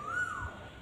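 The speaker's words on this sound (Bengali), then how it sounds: "প্রচুর কোকিল ডাকছে এখানে।" An Asian koel calls once among jackfruit trees on the grounds of Alipur Jail Museum in Kolkata, a single clear rising whistled note, moderately distant over quiet daytime ambience.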